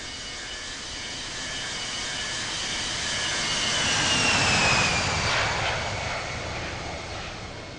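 A jet airliner at Salt Lake City Airport roars past, a broad rushing engine noise that swells toward the middle and slowly fades, heard alone without talk.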